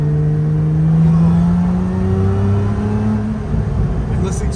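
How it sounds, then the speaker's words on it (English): A Toyota with a supercharged 2GR V6 pulls hard through its exhaust, the engine note climbing steadily in pitch as it accelerates, loud and close, with faint talk in the background. "this exhaust, guys, my god, it is intoxicating."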